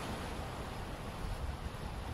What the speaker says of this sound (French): avec ces bruits de vagues